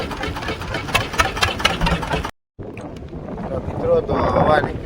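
Loud gusty wind at sea buffeting the microphone aboard a fishing boat, over a droning boat engine and splashing water, with a brief dropout midway.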